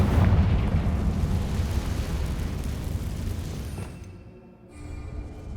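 A fire spell explosion in Hogwarts Legacy: a loud, broad roaring blast that rumbles for several seconds, then dies away before a smaller rumble returns.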